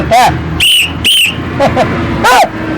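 Sharp, shrill whistle blasts in a Tamil comedy stage drama, about four short toots in an uneven rhythm, loud and close, with some background noise between them.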